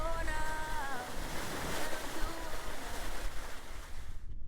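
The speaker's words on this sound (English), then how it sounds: "A little bit windy. And it's very windy." Strong wind buffets the microphone at Coral Bay beach in Western Australia while waves wash in, a steady roaring rush with brief faint tones early on, cutting off at the end.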